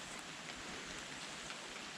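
Rain comes down over a swamp on public land in summer, a steady even hiss of falling water with no distinct drops or voices standing out.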